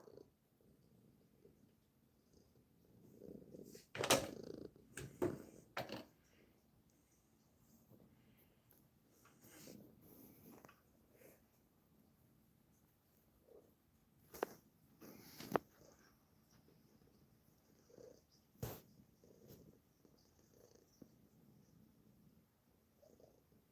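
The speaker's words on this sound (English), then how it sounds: "So hopefully you can hear a little bit of a purr" A cat purrs faintly and close up, a soft low rumble broken by several louder bumps and rustles of handling, with quiet gaps in between.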